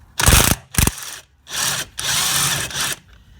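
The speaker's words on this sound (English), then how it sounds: "while we've got the 15mm socket on the gun, so I'll remove this lower gearbox sway mount." A power impact gun with a 15mm socket works loose the lower gearbox sway mount bolt on a Ford Focus 1.6 diesel, giving two short loud hammering bursts followed by longer whirring runs, close and alone.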